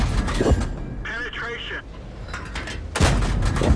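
Booming artillery impacts strike a heavily armoured heavy tank in a video game, with loud cracks at the start and near the end and someone talking between the blasts.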